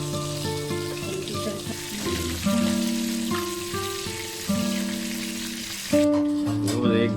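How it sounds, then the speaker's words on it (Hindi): Pieces of chicken tikka frying in ghee give off a continuous close sizzle that swells as a new batch goes in, with tonal music playing underneath. "ये तो नेक्स्ट बैच हमने घी में डाल दिया।"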